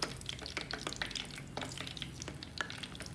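Potato and chicken keema cutlets fry in hot oil with a soft, busy crackle and sizzle, broken by a few sharper pops and scraping stirs, heard close up with no talking.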